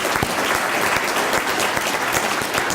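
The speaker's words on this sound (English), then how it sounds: "Let's give our guest speakers another round of applause" A room full of audience members claps for guest speakers at a scholarship gathering, thick continuous applause at an even level throughout.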